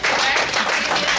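A town hall audience on Medicaid claps together in a loud, steady burst of applause that fills the short moment with no pause.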